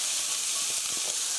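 Onions, garlic and green onion stir-frying in a pan for a hamburger rice bowl, a steady, soft hiss and sizzle that holds evenly throughout, with no talk over it.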